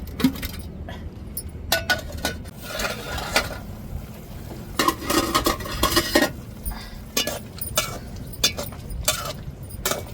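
A plate set over a pot of drumstick aviyal as a lid, heard as a scatter of close metallic clinks, taps and scrapes of dishes and utensils spread unevenly across the clip.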